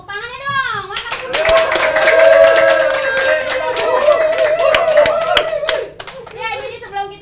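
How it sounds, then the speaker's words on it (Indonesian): Studio audience clapping hands steadily for several seconds at an indoor talk-show set, with a voice speaking before the applause and again as it fades at the end. "Tepuk tangannya dong."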